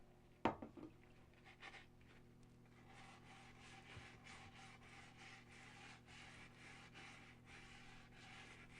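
Black sandpaper rubbing a hard water line on toilet porcelain, a faint, steady scratchy rasp of repeated strokes after a sharp knock at the start, quiet and close with no talking.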